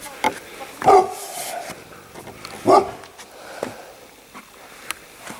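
A big dog gives a few deep barks and loud sniffs nearby, separated by pauses, with faint background noise.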